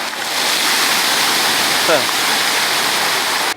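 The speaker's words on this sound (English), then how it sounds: "This is the kids' splash zone play area." Water features in the kids' splash zone at a Disney Caribbean Beach Resort pool spray and splash in a steady, loud rush that fills the whole stretch, with a brief faint voice partway through.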